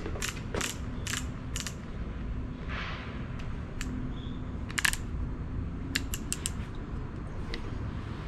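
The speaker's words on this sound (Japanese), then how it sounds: "トルクレンチです。" A torque wrench tightens the oil filter on a Nissan C27 Serena S-Hybrid, giving a run of quick ratcheting clicks, then a few isolated sharp clicks over a low background hum, close and moderately loud.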